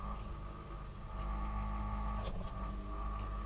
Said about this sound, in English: noise of that van.